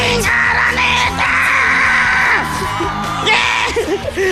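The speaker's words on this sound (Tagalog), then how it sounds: "Ang ganda-ganda ng sigaw mo." Loud yelling and whooping at a crowded Araneta Coliseum talent show, with a person holding a long, strained shout over a roaring audience, then breaking into excited vocal bursts near the end.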